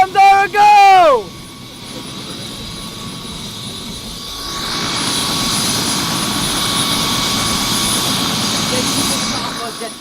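A helicopter's engine and rotors build into a loud, steady roar with a high whine, rising after a brief voice shout at the start and holding through to the end.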